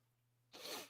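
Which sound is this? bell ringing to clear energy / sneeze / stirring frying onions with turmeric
sneeze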